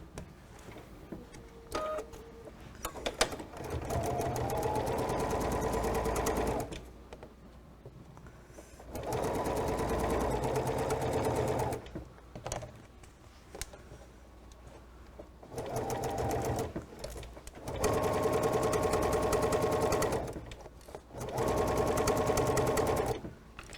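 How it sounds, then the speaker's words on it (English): A sewing machine runs in four or five sustained bursts, stitching down the edges of a quilt block with a quarter-inch seam, each run separated by short pauses and quiet handling. "we're going to head over to the machine and we're going to sew down all of those edges here with a 1/4 inch seam"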